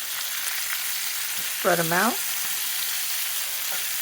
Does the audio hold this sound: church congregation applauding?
no